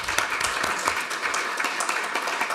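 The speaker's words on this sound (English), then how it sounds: "I'd like to ask the audience for one final round of applause for our speakers." Conference audience applauding panel speakers at the close of a morning session: dense, even clapping from a seated crowd, moderately distant and sustained throughout.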